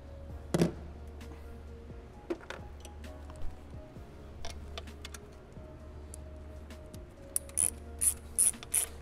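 A ratchet tightens a bracket onto the aluminum cylinder head of a BMW 335i N54 engine, giving faint irregular clicks and a few sharper bursts of ratcheting toward the end, up close with no talking.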